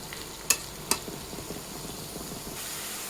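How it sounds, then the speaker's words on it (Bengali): Leftover cooked rice frying in a pan for fried rice, a soft steady sizzle with a couple of sharp clinks of a utensil against the pan, close and fairly quiet. "একটু ভালো করে ভেজে নিতে হবে।"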